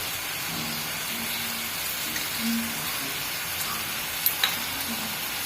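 Tomatoes sizzle in a pan for a dried fish curry, making a steady, even hiss of frying that runs throughout. A couple of faint ticks sound near the end.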